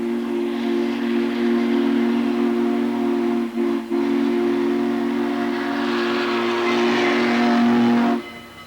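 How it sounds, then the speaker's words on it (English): A locomotive sounds its steam-style whistle for a road crossing: one long, loud, sustained chord-like blast, briefly dipping once midway before carrying on and cutting off sharply near the end. "The engineer blows the whistle for the road crossing, warning all the people the train is coming."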